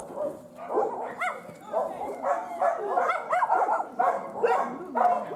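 A hard-to-catch dog at a shelter in Bečej barks and yips repeatedly in short bursts, with whimpers mixed in, close and fairly loud, as people talk in the background.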